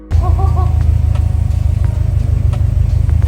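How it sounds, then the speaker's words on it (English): A 2011 Subaru Forester XT fitted with an Invidia N1 cat-back exhaust idles close by with a deep, steady rumble and a slightly throbbing burble, continuous and loud with no voices. "Go ahead and start the car, let it run"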